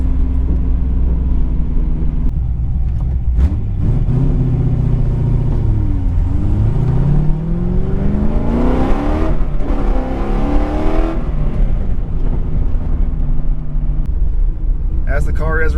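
A 2006 C6 Corvette with a Hi-Ram intake, running on E85, rumbles loudly from inside the cabin while being driven, its engine rising and falling through revs with gear-change sweeps, and a person talks over it.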